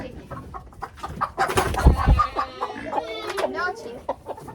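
Chickens clucking and squawking in a backyard coop, several overlapping calls close by, with someone talking to the birds throughout.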